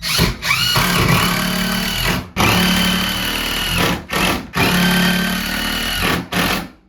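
A power drill drives screws into wooden shelf joints for garage shelving, loud and close in four separate bursts, each whirring for about one to two seconds with brief pauses between them.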